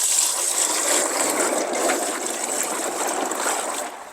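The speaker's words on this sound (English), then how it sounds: "dump it into a cooler with ice and water that looks like so" Turkey brine pours and splashes steadily into a cooler with ice and water for about four seconds, a continuous wet rushing that fades slightly at the end.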